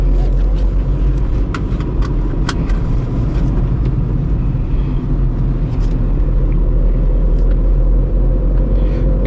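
A Volkswagen Polo diesel engine heard from inside the car while driving, a steady low rumble of engine and road noise with faint clicks on top and no let-up throughout.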